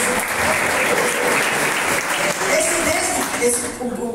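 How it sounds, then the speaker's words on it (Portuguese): A church congregation at a worship service bursts into sustained, loud applause for the Lord, a thick continuous roar of clapping with voices mixed in, tapering off at the very end. "dê uma grande salva de palmas ao Senhor"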